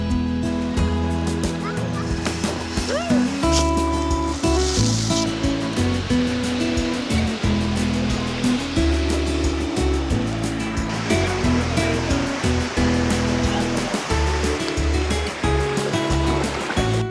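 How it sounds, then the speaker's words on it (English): Rushing water at the Zarwani waterfalls roars steadily throughout, a broad continuous wash with music playing over it and a few brief bird-like calls. "We reached the waterfalls."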